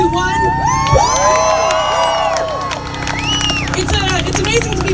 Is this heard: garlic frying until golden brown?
no